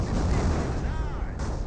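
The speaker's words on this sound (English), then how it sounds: "You got the M2 now firing away." A Company of Heroes battle with an M2 machine gun firing amid artillery: dense, loud, continuous rattling gunfire with heavy low booms blended into a steady roar.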